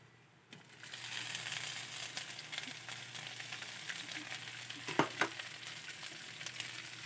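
Onion added to a pan of sautéing ginger, bursting into a loud steady sizzle after a quiet start, with a few stirring scrapes and clatters midway.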